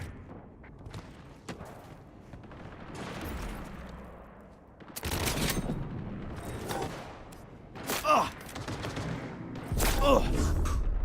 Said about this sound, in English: Is this a burst sniper? Hit him hard!